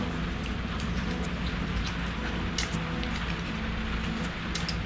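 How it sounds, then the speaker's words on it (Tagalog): Steady rain hisses and patters close by, a constant wash of drops with no voices. "Nabutan tayo ng ulan."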